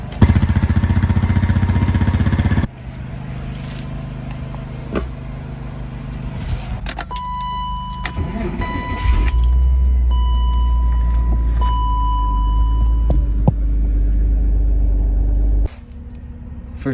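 A BMW E36 is towed into a garage by a rope from a Pajero, with a low engine rumble and mechanical clunks and a whining tone mixed in; the heavy rumble swells midway and stops near the end.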